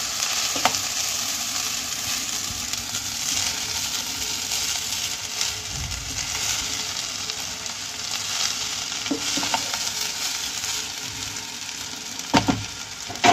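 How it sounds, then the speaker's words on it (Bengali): Fried rice with cashews and raisins being stirred in a wok: a continuous, fairly loud sizzle with occasional scraping clinks from the spatula against the pan. "এবার আমি কাজু বাদাম আর কিশমিশ ভাজাটা দিয়ে দেবো। দিয়ে ভালোভাবে কড়া থেকে নেড়ে দেবো।"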